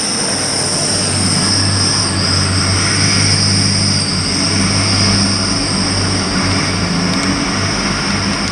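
A Class 180 diesel unit on the Hull service pulls out of Grantham station, its engine droning steadily and laboring hard at close range with a constant low hum and high whine throughout.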